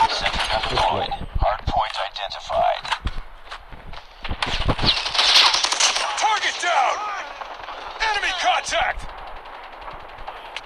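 Machine-gun fire from a deployed turret in the Call of Duty Mobile battle royale, with bursts of rapid shots mixed with footsteps and game effects, while someone talks over much of it.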